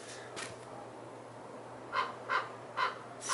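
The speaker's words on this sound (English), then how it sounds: "And I got this annoying bird squawking." A bird squawks outdoors near a 2015 Audi Q7 TDI S-line during a tire fitting, giving several short harsh caw-like calls in quick succession, faint and somewhat distant, with no talk.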